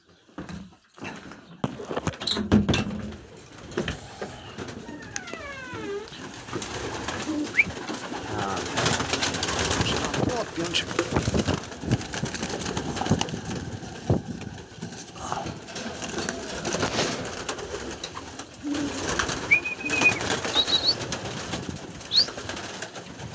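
Homing pigeons in a loft coo softly and beat their wings in bursts of flapping, close and lively, with some faint indistinct talk in the background.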